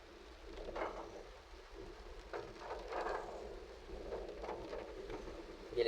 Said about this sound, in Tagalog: Bagsak ang ulan.